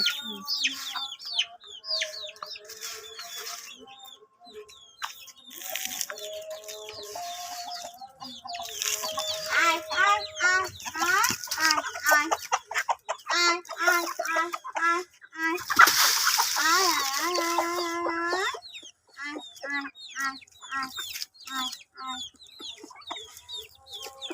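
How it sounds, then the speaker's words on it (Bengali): Native chickens cluck and squawk in quick, busy bursts close by while being fed, with occasional splashing and a voice speaking briefly in the background. "এখন খাবার দিলেই মুরগি ধরা যাবে"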